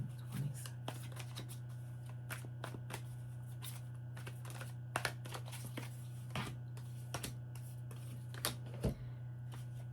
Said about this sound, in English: Hold on, I'm going to shuffle these cards a little more.